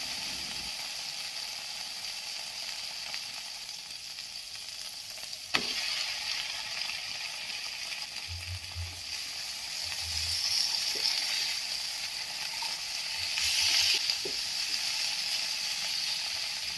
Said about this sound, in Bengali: এবারে সেই ভাজা মাছগুলো আমি এটার ভিতরে দিয়ে দেব।